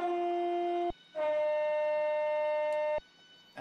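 Javelin passenger train in a train video game sounds a loud two-tone horn as it pulls away: one short blast, a brief gap, then a longer sustained blast that cuts off sharply, followed by quiet engine hum.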